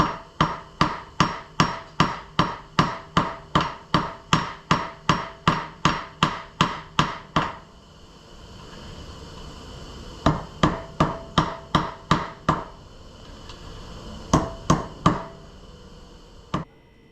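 Hammer forging heated copper held in a vise, with a fast, steady run of about twenty sharp metallic strikes, a pause, then a few scattered blows, each one close and crisp.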